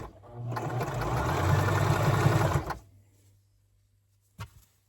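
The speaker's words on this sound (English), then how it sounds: "I'm going to line my stitch line up with the edge of the serger, and off I go" A serger sewing machine runs in one sustained burst of fast stitching through stretchy T-shirt fabric, then stops and is followed by a short mechanical click near the end.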